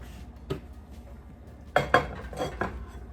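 A metal lid is set on a pot of sausage, lentil and kale soup cooking on the stove, giving several sharp metallic clanks and rattles, two close together in the middle, with quiet gaps between.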